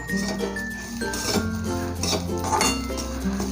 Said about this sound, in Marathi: हा थोडासा परतून घ्यायचा आहे